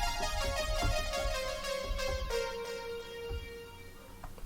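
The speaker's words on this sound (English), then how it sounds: "This one is the Juno Brass." A bright Juno-style analog synth brass patch plays a few sustained chord stabs with a rich, buzzy tone and a trailing echo, with no voices.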